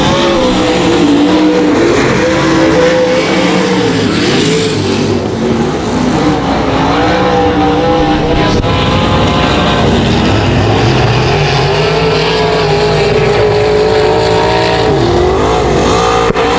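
Race cars at 281 Speedway roar continuously at close range as engines rev and shift pitch through the laps, with a dense overlapping drone that is loud throughout.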